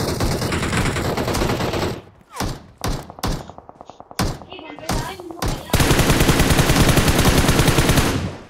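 M416 rifle gunfire in the mobile shooter BGMI: loud, rapid automatic bursts near at hand, broken by short gaps and scattered single shots, ending in one long sustained volley.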